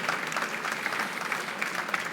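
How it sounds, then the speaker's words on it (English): Sustained audience applause for panelists at a Web Summit conference session in Lisbon, a dense wash of many hands clapping at steady volume with no talking. "please join me in giving a round of applause to our panelists"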